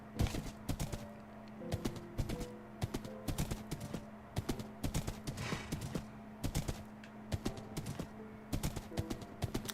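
Horse hooves clip-clop in irregular bursts in Minecraft against a steady musical drone, sharp close knocks with brief pauses between runs.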